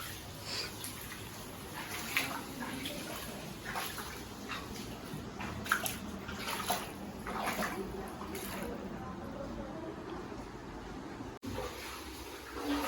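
Floodwater from steady rain sloshes and splashes inside a flooded house in Vadodara, a faint continuous watery churn with occasional louder splashes, and a voice speaks at times.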